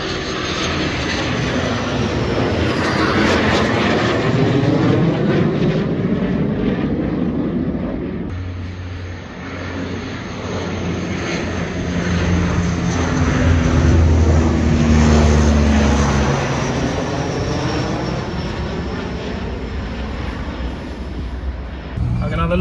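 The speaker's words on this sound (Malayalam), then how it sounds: "ഫുള്ള് ഫൈറ്റർ ജെറ്റ്സ് നമ്മുടെ മേളിൽ കൂടി ഇങ്ങനെ പറന്നുകൊണ്ടിരിക്കുവായിരുന്നു." Fighter jets roar overhead during training flights near the Ooty ghat road, loud sweeping engine noise that rises, fades and surges again across the stretch, with voices now and then underneath.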